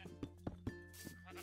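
Sheep bleat several times in a video game sheep farm room, short repeated cries over a steady game backdrop, fairly quiet.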